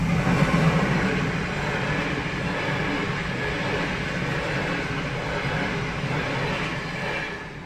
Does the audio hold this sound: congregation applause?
no